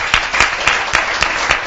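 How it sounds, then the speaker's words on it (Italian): A crowd applauding steadily at a youth cycling race, with a few louder individual claps standing out at a regular rhythm over the dense clapping. "Un applauso a voi ragazzi."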